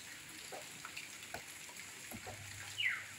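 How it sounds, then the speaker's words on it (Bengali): Rain falls as a faint, even hiss with scattered individual drops pattering on a surface, distant and steady, with no voices. "সকাল থেকে বৃষ্টি শুরু হয়ে গেছে"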